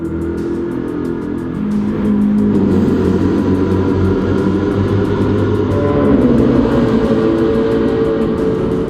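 A race car on a closed course, its engine roaring steadily and echoing off concrete barriers and chain-link fencing, loud and continuous with a swelling rise partway through and no voices.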